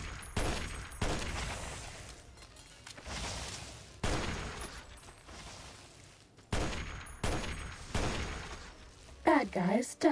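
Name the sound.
gunfire from a gun in Fallout video game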